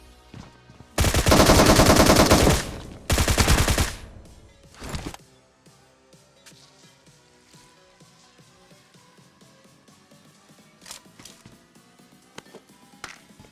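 Gunfire in a battle royale video game: two loud sustained automatic bursts close together, one short volley after them, then scattered faint distant shots.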